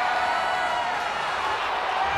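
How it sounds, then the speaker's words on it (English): Live arena crowd at WWE Crown Jewel cheering during Alexa Bliss versus Dakota Kai's casket match, a loud, steady wash of roaring and whooping with no break. "a live crowd doesn't get any hotter than this"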